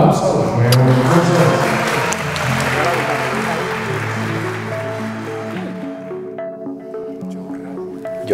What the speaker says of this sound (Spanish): que nos mandan un fuerte aplauso